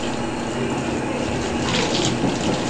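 Running water rinsing a dog during a bath: a continuous, fairly loud rushing spray that swells slightly near the end, heard close up with no clear talking.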